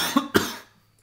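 A single short cough, two quick bursts close together, fairly near and alone, fading into quiet.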